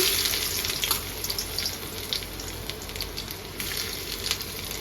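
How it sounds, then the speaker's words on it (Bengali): Chopped onions hit hot oil in a pan, giving a steady, moderately quiet sizzle with brief brighter crackling bursts. "প্রথমে তেল গরম করে তাতে পেঁয়াজ কুচি দিয়ে দিচ্ছি।"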